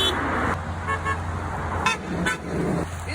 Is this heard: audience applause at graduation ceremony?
no